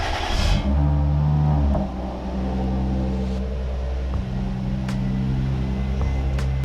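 An S4 with a supercharged V6 rumbles nearby with a low, steady engine tone and a short rev near the start, then settles to an even hum without speech.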